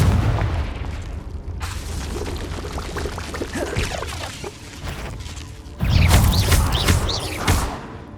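Confringo fire spell explosions in a cave in Hogwarts Legacy, a rumbling crackling burst followed by a louder, booming blast partway through, with debris and crackle trailing off.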